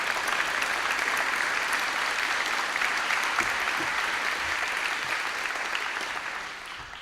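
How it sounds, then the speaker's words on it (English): A large audience claps steadily at a United States speech event by President William Jefferson Clinton, a dense and even wash of applause that slowly fades over the last second. "That's worth clapping for."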